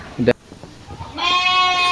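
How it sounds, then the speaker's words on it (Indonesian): At a park in Puncak, Cianjur, a person speaks briefly, then a goat gives one long, strong, quavering bleat close by. "Terus ini juga masih ada kambing."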